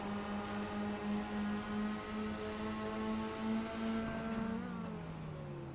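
Car engine in a racing video game, a steady droning tone with harmonic bands that shifts pitch near the end as the gear or clutch changes, held at moderate loudness with no voices.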